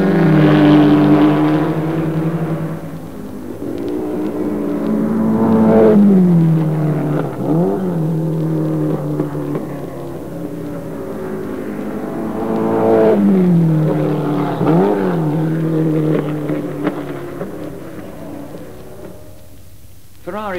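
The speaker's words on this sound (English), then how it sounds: "neither Connaught nor Van Wall nor b.r.m, with their new 4-cylinder cars, with cylinder bore enormously greater than the piston stroke, and heard here at Silverstone" Vanwall and BRM four-cylinder Formula One cars race at Silverstone, engines rising and falling in pitch as they pass, two swelling pass-by peaks standing out, the tone loud and continuous.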